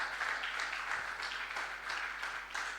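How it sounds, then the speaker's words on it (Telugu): A church congregation claps together in a quiet, distant patter that keeps going steadily for a few seconds, with no voices over it. "వాక్యం వినడానికి సిద్ధంగా ఉన్నవారు ఒకసారి చప్పట్లు కొట్టి దేవుని మహిమపరుస్తాం."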